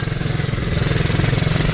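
An MRF bike's engine revs on the throttle close by, a loud, pulsing drone that climbs steadily over a couple of seconds.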